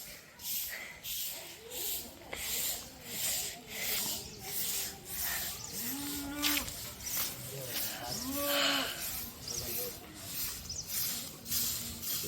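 Buffalo lowing in a village: two drawn-out, moderately loud moans about two seconds apart, over steady rustling and rubbing noise with no clear talk.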